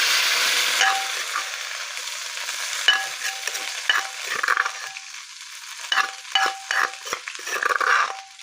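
Curry paste for spicy eel stir-fried in hot oil, giving a bright sizzle with bursts of scraping and stirring strokes in the wok, close and fairly loud with no voices.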